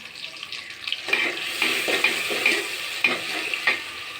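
Browned onions and flour being stirred and fried in a pot for beef khichuri over raised heat, a close, bright sizzle with rhythmic scraping strokes of a spoon every half second or so.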